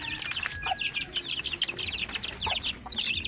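Breeding chickens cluck and chirp in a rapid, busy chatter close by, with short squawks mixed in and no talk.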